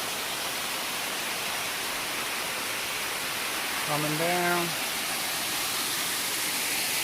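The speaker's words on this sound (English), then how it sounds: "The mini waterfall here." A small waterfall beside a forest hiking trail makes a steady, full hiss of rushing water throughout, while a voice briefly speaks over it.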